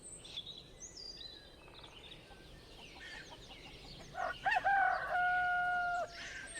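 A rooster crows loudly in a long, drawn-out call, with other birds chirping faintly in the background of an outdoor morning scene.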